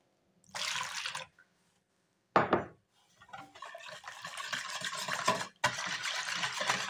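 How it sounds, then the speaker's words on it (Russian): Boiling water is poured from a glass into cold milk in a home kitchen, heard as several close, gurgling pours broken by short pauses and a brief clink, with no talking. "я наливаю 1 стакан кипятка"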